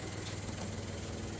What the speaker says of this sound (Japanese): エンジン音がうるさいって言ってる？